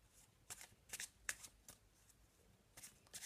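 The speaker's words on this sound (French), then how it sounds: "j'ai besoin d'un paquet de cartes normales qui pourrait être mélangé. Donc je vais le mélanger." A standard deck of playing cards is shuffled in a series of short, crisp riffling bursts separated by brief pauses, close and fairly quiet with no talking.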